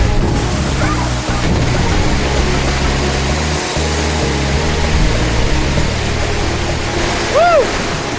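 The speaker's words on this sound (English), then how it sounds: "It is so forceful underneath that waterfall" A forceful waterfall at the headwaters of the Siem Reap River roars in a continuous loud wash, partly masked by music, with a brief voice exclaiming near the end.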